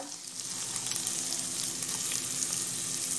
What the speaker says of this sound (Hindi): जीरा राइस बनाने के लिए कुकर में हम डालेंगे शुद्ध देसी घी और हम डालेंगे प्याज